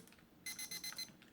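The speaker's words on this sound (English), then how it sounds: "Oh, let me just reset the timer." A kitchen timer being reset lets out a rapid burst of five or six sharp, high electronic beeps, close and distinct against a quiet indoor background.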